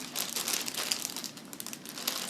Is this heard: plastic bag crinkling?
yes